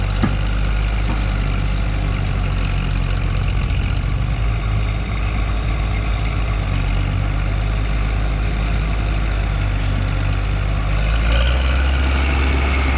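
A Caterpillar D5B bulldozer's diesel engine rumbles steadily while pushing wet laterite, a deep, continuous low drone with mechanical clatter and a brief surge in load near the end.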